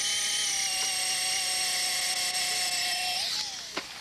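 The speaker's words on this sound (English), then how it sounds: "Just a 7/16 drill, and drill a little bit at an angle, probably 10 degrees or so at an angle." A 7/16 drill bores an angled tap hole into a tree trunk, giving a steady high motor whine with harmonic tones that holds near and loud, then sags in pitch and winds down at the end.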